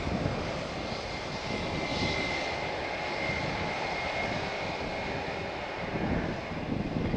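Malta Air airliner departing Faro Airport for Stansted, a steady broadband engine roar held at a constant level throughout with a faint whine above it and some wind buffeting on the microphone.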